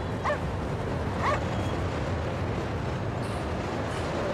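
Two brief, fairly faint dog barks from the video game Anabiosis: Dream of Reason, spaced about a second apart against a steady low game ambience.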